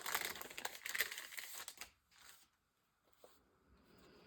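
Decorative papers being handled and crinkled at close range, a dense burst of rustling and crackling for about two seconds, then a few faint, sparse rustles trailing off into quiet.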